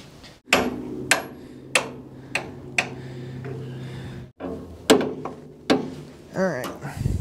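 Sharp metallic hammer strikes land one after another at an uneven pace, close and loud, with a low mechanical hum underneath, while fitting an engine into a 1960 Chevrolet El Camino.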